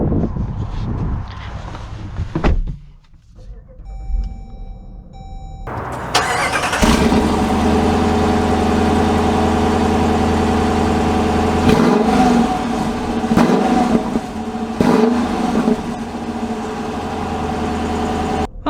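A 2022 Dodge Durango R/T starts up at close range, its engine catching after a brief crank, then settles into a steady, loud mid-pitched drone as the SUV pulls away and drives, with occasional swells of revving.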